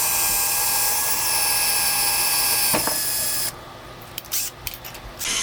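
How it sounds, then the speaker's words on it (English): A power drill with a 2mm bit bores a pilot hole in galvanized pipe for a steampunk lamp, giving a steady, high, tonal whine for about three and a half seconds before it cuts off, leaving quieter scattered noise. "we're going to drill a pilot hole first with maybe a 2mm drill bit"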